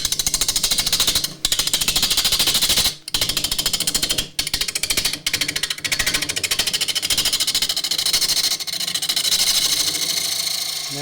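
Woodturning tool cutting the edge of a tray spinning on a lathe, a loud, continuous harsh buzzing scrape with brief pauses as the tool lifts off, close and without talk.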